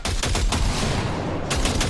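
Rapid rifle fire in the video game Cyberpunk 2077, one loud sustained burst of closely spaced shots filling the whole moment with sharp cracks and a dense rumbling tail.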